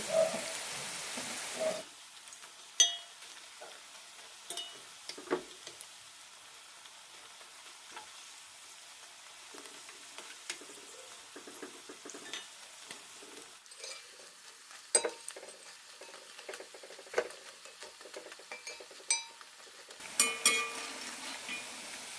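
Cabbage fries in a pan with a soft, steady sizzle, broken now and then by scraping clicks as it is stirred and turned.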